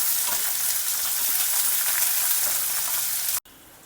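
Steady, loud sizzling of sliced onion being stir-fried in a hot pan, a continuous hiss with faint stirring scrapes that cuts off abruptly near the end.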